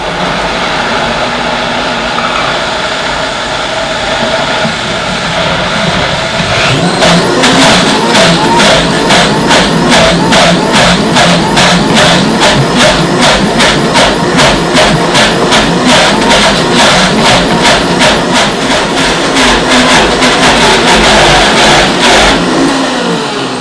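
A Vitamix blender blending cashew cheese roars loudly and steadily, first at lower speed and then ramping up to a harsher, pulsing high-speed whir that runs for most of the stretch before stopping abruptly.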